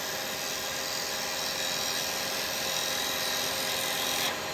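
A roughing gouge cuts a wooden bowl on a lathe, making a steady dense hissing, tearing whir that stays loud and unbroken throughout and cuts off sharply just before the end.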